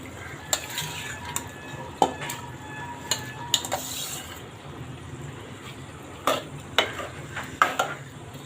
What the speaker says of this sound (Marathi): आपण यात डाळ टाकून घेऊ.